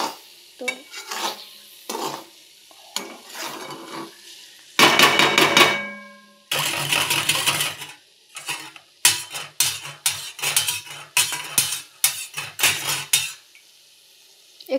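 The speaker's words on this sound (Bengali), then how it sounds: "এই যে এখন একটু নাড়াচাড়া করব, একটু ভালো করে তেলটা ছেড়ে গেলে তারপর জল দিয়ে দেবো" A metal utensil stirs egg curry masala in a pan, making repeated loud scraping clatters and rhythmic clinks in short bursts with brief pauses, close by, with a faint sizzle beneath.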